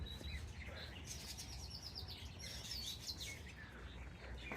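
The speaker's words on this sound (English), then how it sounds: "Canaries." Small caged canaries chirping and tweeting in a row of short, bright, quick notes that repeat across the whole stretch, fairly faint, over a steady low background hum indoors.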